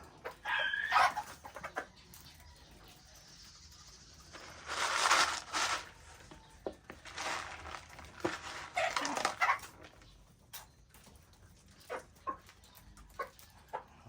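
Backyard hens cackling around a nesting spot before laying eggs, with bursts of loud clucking and squawks, a rooster-like call and a barking dog among scattered bird sounds; no talk.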